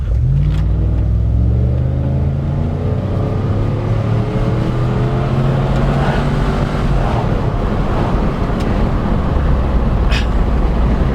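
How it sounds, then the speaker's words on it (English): A V8 Ford Taurus SHO's exhaust rumbles loudly and close as the engine revs up and pulls through several rising and falling sweeps, with no talking over it. "Love the sound of this exhaust."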